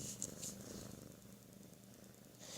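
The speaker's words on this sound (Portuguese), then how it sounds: "Ouve só o gato ronronando que eu perdi." A cat purrs softly and steadily up close, a low rumbling drone with faint high chirpy sounds at the start and end.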